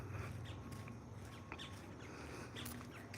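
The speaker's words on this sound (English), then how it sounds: "Listen to the birds." Birds chirp and call in scattered short bursts outdoors on a sunny morning walk, faint and distant over a steady low background rumble, with no one talking.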